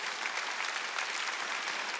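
A congregation at a Wednesday worship service of Jesus Center Church bursts into dense, continuous applause, an even roar of many hands clapping with no gaps.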